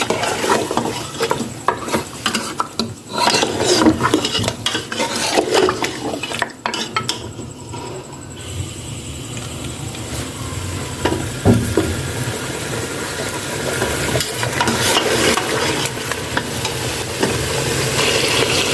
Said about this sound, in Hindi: अब हम डालेंगे पाए। अब हम अच्छी तरह इसको हिलाएंगे।